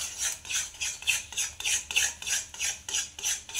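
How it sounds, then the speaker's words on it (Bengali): Cake batter stirred steadily in a pan on a gas stove, each rhythmic scraping stroke repeating about every third of a second, close and crisp with no talking. "আমি ব্যাটারটাকে নিয়ে ওভেনে অনবরত এইভাবে নেড়ে একটা টাইট করে নিচ্ছি এটাকে"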